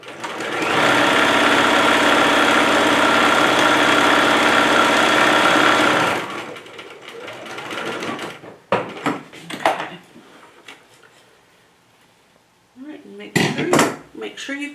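A sewing machine stitching fabric heart pieces of a Valentine's Day bag runs in one loud, steady burst for about six seconds, then stops and is followed by softer handling clatter and a brief voice.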